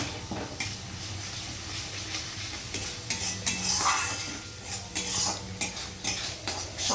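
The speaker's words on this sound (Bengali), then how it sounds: "এইভাবে মশলাটা খুব ভালো করে কষে নিতে হবে" Fish curry spice paste sautéing in a pan with a utensil stirring and scraping against the metal, a soft sizzle running underneath, close and steady.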